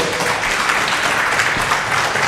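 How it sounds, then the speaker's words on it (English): A conference audience gives a speaker a steady, loud round of applause, a continuous wash of many hands clapping together throughout. "Please give him a round of applause"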